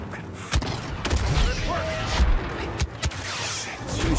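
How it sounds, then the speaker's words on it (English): Blaster and gunfire in a Star Wars Battlefront 2 battle, a near-continuous volley of shots with several sharper cracks, loud and close over a busy game soundscape. "Who's shooting at me?"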